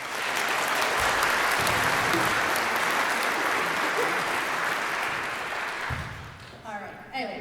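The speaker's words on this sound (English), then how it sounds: "So give them a round of applause as well." Sustained audience applause at a district orchestra concert fills the hall, loud and dense for about six seconds before fading as the clapping thins out.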